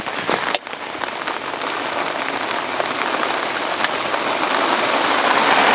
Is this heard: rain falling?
yes